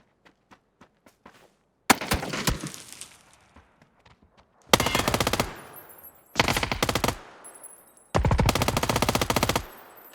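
A JS-9 submachine gun fires in a video game: a string of light single shots, then several loud, dense full-auto bursts with short pauses between, close and dominant.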